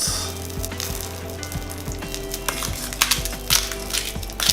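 Whole tomatoes, seasoned with salt and pepper, sizzling as they roll around in a hot skillet: a steady, hissing fry with scattered crackles and pops over a low background hum.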